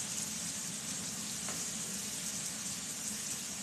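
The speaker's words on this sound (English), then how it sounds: "Tonight we're frying off some pork chops" Steady, continuous sizzling and crackling of pork chops frying in a hot pan, close and even, with no voices.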